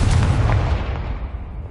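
A Confringo fire spell in Hogwarts Legacy on PS5 bursts as a loud, deep explosive boom with a rumbling low-end tail that fades over a couple of seconds, with no voices over it.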